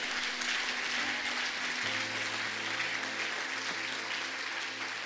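A church congregation applauds steadily throughout, with dense clapping from many hands and a low sustained instrumental tone entering partway under it.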